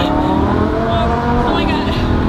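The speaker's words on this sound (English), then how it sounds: "First drive in the Lamborghini." A Lamborghini sports car on its first drive, engine roaring loudly and continuously from inside the cabin as it downshifts, a dense, rumbling drone with shifting pitch and no pauses.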